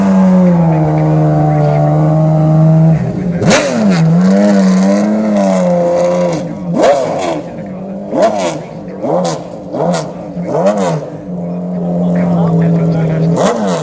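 A race car engine at the Goodwood Festival of Speed drones steadily, then revs up and down repeatedly in sharp surges, loud and close, with a voice talking over it.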